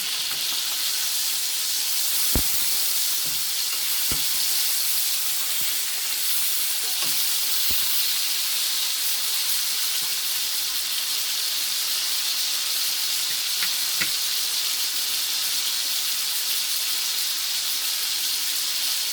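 Faux steaks frying in a pan, a constant loud hissing sizzle throughout with a few sharp taps and clinks as they are flipped, no talk.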